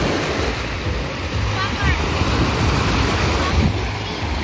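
Sea waves washing onto the beach at Kamenka on the Azov shore in Yeysk at sunset, a steady loud surf rush mixed with wind buffeting the microphone, with soft surges along the way.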